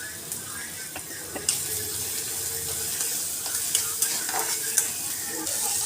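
Onion frying and being stirred in a pan, a steady close sizzle with scraping stir strokes and occasional clinks, loud and continuous with no talk.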